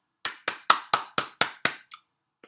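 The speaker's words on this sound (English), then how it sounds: "Applause. Applause from me." One person's hands clap seven times in a steady, even beat, each clap crisp and close, with a weaker eighth clap as the rhythm trails off.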